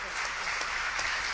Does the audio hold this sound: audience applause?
yes